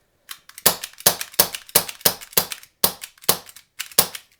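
Green gas HFC HG-107 Colt .25 airsoft pistol firing into a box: nine sharp, close pops in a steady, slightly uneven rhythm, each with a quick decay and short gaps of silence between shots.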